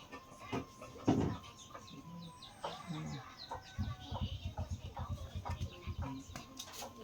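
Chicken clucking in short repeated bursts close by, with a louder squawk near the start and steady pulsed clucks through the second half, mixed with a voice talking.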